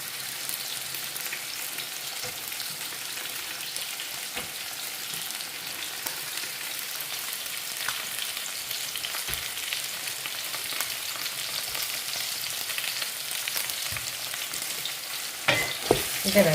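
Onions sautéing in a pan for couscous give a steady, dense sizzle that runs unbroken, with faint stirring scrapes near the end; no talking.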